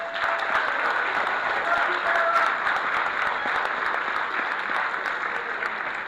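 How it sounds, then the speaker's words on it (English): Audience applause for a panel fills the room, a steady dense wash of many hands clapping at even strength from start to finish, with faint crowd murmur beneath. "let me just give a round of applause for our panel up here."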